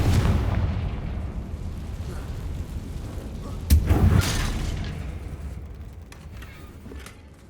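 A Confringo fire spell goes off in the video game Hogwarts Legacy as a loud, close, rumbling blast. A second sharp explosion lands midway, and a long booming tail then fades slowly.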